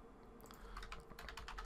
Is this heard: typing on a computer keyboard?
yes